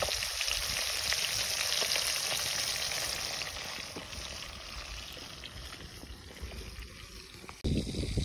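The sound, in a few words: small fish frying in a pan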